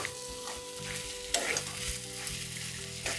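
Already-fried dried Bombay duck is stirred in a pan, a soft continuous sizzle under a spatula scraping and clattering against the metal in uneven strokes, one sharper knock standing out. No voices.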